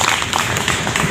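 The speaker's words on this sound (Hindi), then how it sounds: "चलिए एक बार तालियां बजाइए" An audience claps together at a Sarna community prayer gathering, a dense, steady patter of many hands, close and fairly loud throughout the short burst.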